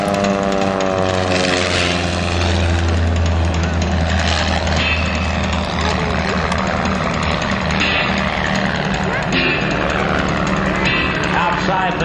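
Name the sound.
clipped wing Taylorcraft propeller airplane doing aerobatics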